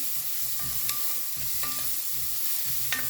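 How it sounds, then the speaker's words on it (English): Onions sweating gently in a pan for a cauliflower curry, with a soft steady sizzle broken by several scraping stirs of a spoon at regular intervals, close and moderately loud with no talking. "just stirring occasionally until my onion is a little bit translucent before adding any liquid here"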